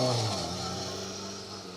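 A Group B rally car on a wet historic rally stage, its engine a loud, close, steady roar with strong low harmonics that gradually settles as it passes, under heavy rain.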